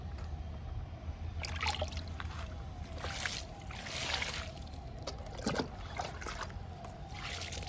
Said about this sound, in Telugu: అమర్ లిల్లీస్కి వాటర్ ఇచ్చేద్దాము